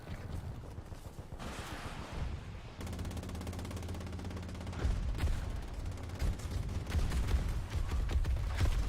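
Heavy gunfire in the Battlefield 2042 beta shooter, with bursts and rattling volleys close by that swell louder in the second half over a layer of wind and battle noise, and no talk.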